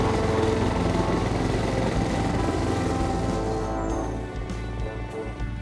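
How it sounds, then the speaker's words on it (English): A running lawn mower discharging its clippings gives a loud, steady engine drone with a buzzing harmonic whine. It eases slightly toward the end, heard alone. "It means mowing any grass length with power and control."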